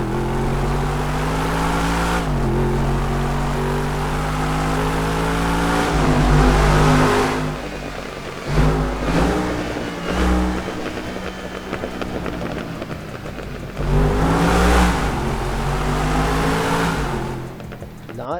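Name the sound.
modded car engine revving in a tunnel, GTA 5 video game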